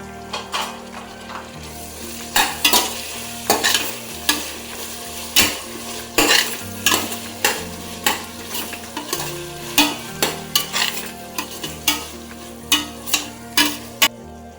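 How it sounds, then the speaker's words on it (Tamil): Mushroom biryani masala with a handful of mint sizzles in a pan while a spoon stirs it, making repeated scraping strokes in an uneven rhythm over steady frying, close and fairly loud, with no talking. "நல்லா வதங்கினோடனே நான் ஒரு கை புதினா ஆட் பண்ணியிருக்கேன்"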